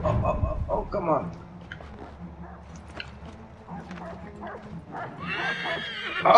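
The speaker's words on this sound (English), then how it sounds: "So, I'm gonna have to call my horse." In the video game Assassin's Creed 3, a horse whinnies briefly at the start and again louder at the end, with hoof clip-clops and a dog's yelp between.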